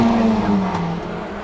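A close pack of Toyota MR2 race cars roars around Snetterton circuit, several engines droning together in one steady, loud blend with a strong low tone wavering slightly as they pass.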